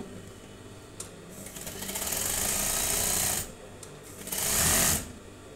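A lockstitch sewing machine runs after its thread tension is tightened, with two bursts of rapid mechanical stitching. The longer run lasts about two seconds and a shorter one follows, each with a soft click before it, close and fairly loud.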